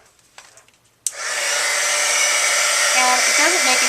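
A heat tool roars on with a sudden start and blows steadily and loudly, close by, as it heat-sets embossing powder on a handmade card, following a few soft handling taps.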